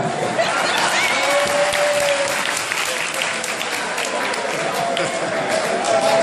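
An audience at a comedy show applauds, dense sustained clapping close by with a faint tonal whine running through it.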